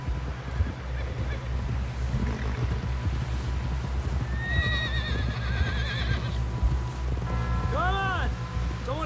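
Hooves clop steadily along while a horse lets out two whinnies, one midway and a louder one near the end, with game-style ambience underneath, in Red Dead Redemption 2.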